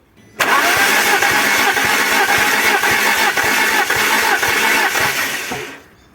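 An Alfa Romeo 147 Twin Spark petrol engine cranks on the starter with the accelerator held fully down, a loud, rapid rhythmic churning that begins abruptly, runs for about five seconds, then cuts off.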